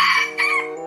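A rooster crows once, loud and close, a bright drawn-out cock-a-doodle-doo with a rising middle and a fading tail.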